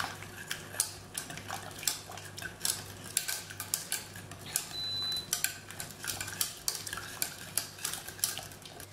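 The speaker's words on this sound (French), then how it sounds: "Je vais maintenant fouetter pour faire fondre mon beurre." Butter being whisked in a bowl to melt it while making madeleines, a steady run of quick metallic scraping and clinking strokes against the bowl, close and fairly even in rhythm, with no talking.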